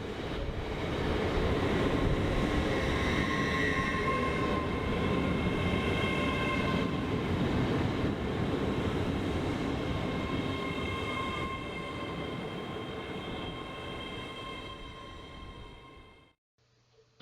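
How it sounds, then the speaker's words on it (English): Steady rumble and hum of the interior of an LNER Azuma passenger train bound for Aberdeen, with continuous rolling noise and tonal motor whine that fades near the end. "As we aboard this LNER Azuma service which is bound for Aberdeen"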